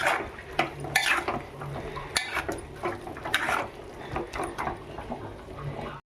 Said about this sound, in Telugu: మన కరివేపాకు ఇంతవరకు వేసుకొని శుభ్రంగా తిప్పుకుందాం.